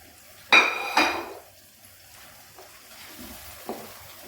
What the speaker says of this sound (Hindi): अब हमने इसके अंदर अपना चिकन डाल देना है।